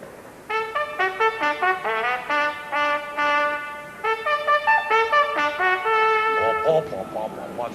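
Gershwin's charleston trumpet melody from An American in Paris is rendered in a Brahms-like style with a rich, warm orchestral tone, its phrased notes close and clear after a brief quiet start, no talking.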